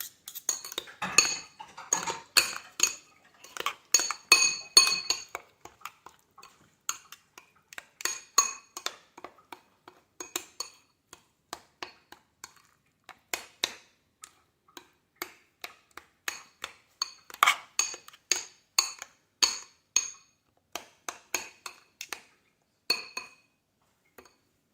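A utensil clinks and scrapes repeatedly against a bowl while pickled cucumbers and other ingredients are stirred together, in close, rhythmic bursts with short pauses, no talking.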